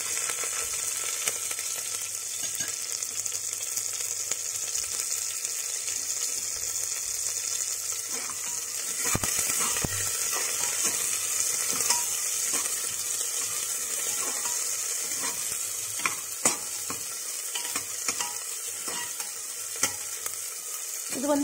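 Onion, curry leaves, garlic and green chili frying in oil, a steady hissing sizzle with occasional stirring scrapes and pops, close and constant throughout, no one talking.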